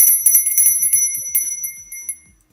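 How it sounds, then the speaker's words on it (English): A bell rings in quick repeated strikes before a tarot reading, each chime bright and clear with a ringing overtone that fades between strokes and at the end. "We're going to ring the bell"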